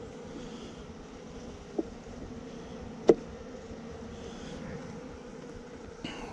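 Honeybees fill a nuc hive box with a continuous, moderate buzzing drone, broken by a couple of sharp knocks from handling the frames and a soft bump near the end.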